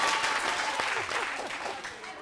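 A studio audience on a TV show applauds, a brief wash of clapping heard under a host's voice.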